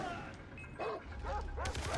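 Dogs bark and yip in Far Cry 3, several quick barks in a rapid cluster near the end over low rumbling game noise and faint gunfire.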